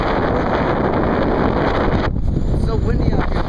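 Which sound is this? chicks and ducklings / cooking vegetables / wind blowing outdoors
wind blowing outdoors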